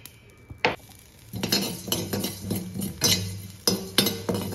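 Cumin seeds and salt dry-roasting in a hot bronze pan for curry leaf rice, with a spoon stirring and scraping: repeated close metallic clinks and scrapes over a soft rustle.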